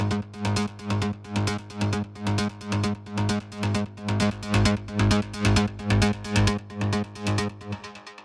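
A trance synth line from the Spire plugin, treated with Ableton Live's built-in delay and EQ to remove resonance, pulses in steady, loud rhythmic stabs over a thick low end, echoing and fading out at the end.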